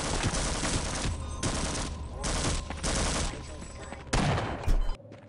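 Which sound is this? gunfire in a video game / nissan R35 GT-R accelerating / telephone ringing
gunfire in a video game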